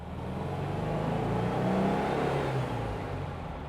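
A restored Porsche 356 accelerates with a steady engine drone whose pitch climbs and shifts as it changes gear, heard from inside the car with no talking.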